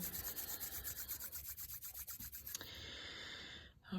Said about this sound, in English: Really kind of loosely so that they can rub in between the fingers too.